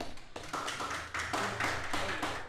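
Audience applause for a guest on a Banyuwangi television talk show, a steady patter of many hands clapping at moderate volume, swelling slightly after the first second and continuing without voices.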